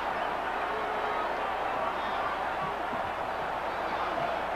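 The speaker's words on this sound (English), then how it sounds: "Crowd is still ooing over that one" Basketball arena crowd at the 1991 NCAA championship game between Duke and Kansas, a broad sustained murmur of oohing and babble after a dunk, with a commentator talking over it.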